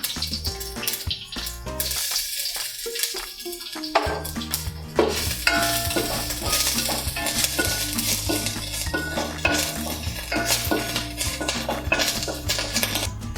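Grated coconut fries in oil in a pan while being stirred for a spicy yam fry, with a soft sizzle under repeated scraping and clinking of the spoon against the pan, close and fairly loud.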